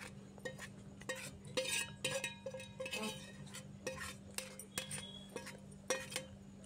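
Fried vegetables for home-style fried rice tipped out of a metal pan, with a run of sharp clinks and scrapes from a spatula against the pan over a low steady hum.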